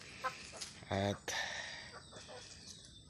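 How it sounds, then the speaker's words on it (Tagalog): Backyard farm chickens, a mix of native birds, Rhode Island Reds and Black Australorps, give a few short clucks and calls at close range, heard under and between bits of a man's speech. "ayan ho ang ating mga alagang manok"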